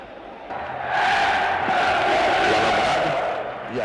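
Dense crowd of football spectators at an overcrowded stadium shouting and crying out for rescue during a crush, a continuous loud roar of many voices swelling after the first second and holding steady.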